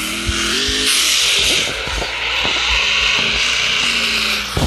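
A motorcycle in the Free Fire video game revs and drives with shifting engine tones, mixed with skidding, thumps and quick bursts of game sound, loud and close.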